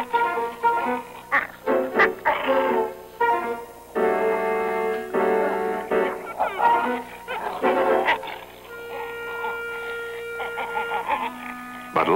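Wolf pups in the Arctic give playful growls, whines and yips, close and fairly loud, overlapping in irregular bursts with brief pauses and some steadier tonal whimpers.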